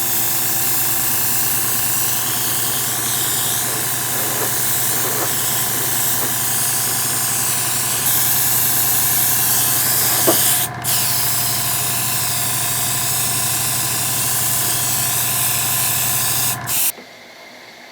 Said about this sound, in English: I've got my my high volume airbrush here.